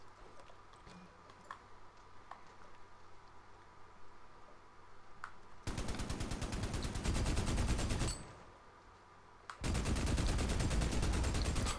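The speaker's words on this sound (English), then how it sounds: "Do you want to just snipe and I'll get on the machine gun?" A mounted machine gun fires in the shooter game Army of Two: The Devil's Cartel, two loud sustained bursts of rapid automatic fire, the first about two and a half seconds long and the second shorter, after quieter ambient game sound.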